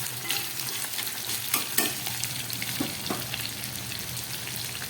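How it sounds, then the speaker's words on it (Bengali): Mutton pieces sizzling as they go into a pan of onions already fried in oil, with a steady frying hiss, a few sharper crackling bursts and faint stirring, close by and with no voices. "এবার এই ভেজে রাখা পেঁয়াজের মধ্যে আমি মাংসটাকে দিয়ে দিলাম"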